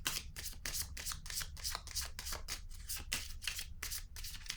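Tarot cards being handled and flipped close by, a rapid run of crisp rustling snaps and flicks repeating in quick rhythm, with no talking.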